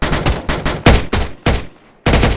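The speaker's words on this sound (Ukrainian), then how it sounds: "починаючи з вибуху снарядів та пострілів автоматів" Rapid bursts of automatic rifle gunfire in Minecraft crack loudly in quick succession, about eight sharp shots with a brief pause before the last.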